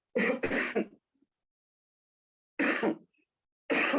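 A man with a cough clears his throat, two rough, harsh bursts close to the microphone separated by silence, the last cut off.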